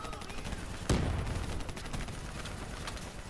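Gunfire in Call of Duty: Black Ops 3 campaign, a sharp loud shot followed by a steady chatter of rapid automatic fire and scattered bursts that carry on through the whole stretch.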